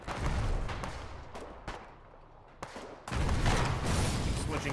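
Gunboat artillery shell fire in the war game Foxhole, booming blasts and sharp cracks over rumbling battle noise, with a heavy sustained burst of firing near the end and some voices in the background.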